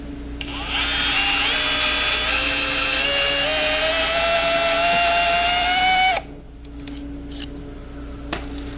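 A drill bores a centered 5/8 inch hole during a 1996 Ford F350 2WD to 4x4 swap, a steady loud whine with rising tones for about six seconds before stopping, followed by a few light clicks.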